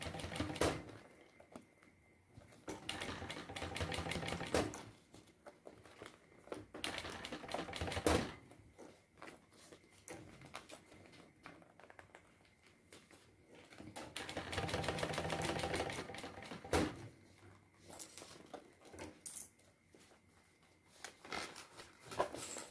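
A sewing machine stitches a unisex fanny pack, a quiet, rapid mechanical chatter in long runs broken by short pauses and soft handling noises.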